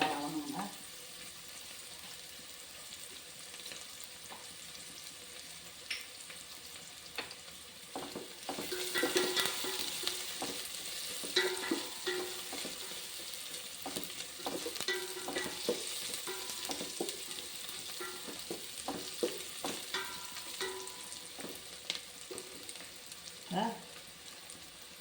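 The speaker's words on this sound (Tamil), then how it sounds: "வெங்காயம் நல்லா வதங்குங்க." Onions sauté in a pan for a pea and black chickpea vegetable biryani. There is a steady, soft sizzle with frequent scraping and stirring clicks of a spoon, up close, and faint voices at times.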